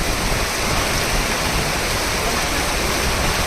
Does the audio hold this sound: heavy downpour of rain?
yes